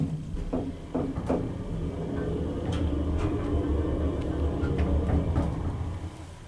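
A Dover elevator descending to the basement, a low continuous motor rumble with scattered clicks and clunks of the car and cables, heard from inside the cab.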